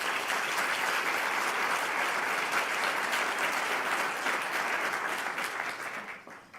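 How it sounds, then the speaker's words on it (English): Steady, dense applause from an audience at an education award ceremony honoring a state principal of the year, sustained and even before tapering off near the end. "Let's give the selection team a round of applause."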